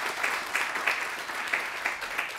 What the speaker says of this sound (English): So I just want to give them a little round of applause for everybody because it's a big deal.